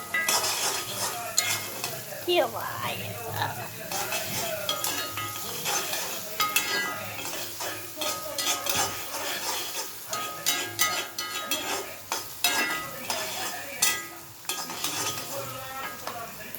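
Food fries in a pan while a utensil stirs and scrapes it continuously, with a steady sizzle under repeated metallic clinks and scrapes close up.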